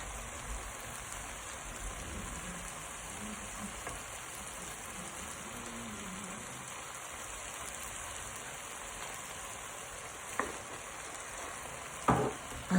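Prawns, chorizo and paprika fry in a pan, giving a soft continuous sizzle with gentle stirring, and a couple of sharp utensil knocks near the end.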